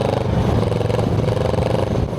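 A Kawasaki Versys 650 motorcycle fitted with a Hurric exhaust runs with a steady, loud engine drone close by, a continuous throaty rumble with no talking over it.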